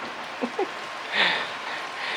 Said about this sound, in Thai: แต่ว่าฝนตก